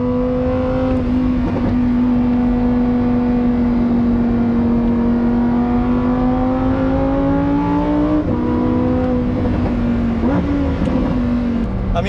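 A Lamborghini Huracan STO roars as its engine climbs from 5,000 to 8,000 RPM, a loud sustained howl rising in pitch with brief dips between pulls, heard close and alone.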